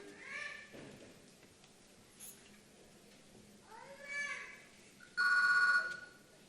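On a theatre stage, a loud electronic phone ring bursts in near the end, steady and sustained, after scattered cat meows and faint background voices.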